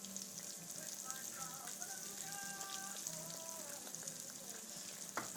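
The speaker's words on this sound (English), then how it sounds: "We'll take just a little break while those are frying" Green tomatoes fry in an iron skillet with a steady sizzle and constant crackling and popping, close and even throughout, with faint tonal sounds drifting over it.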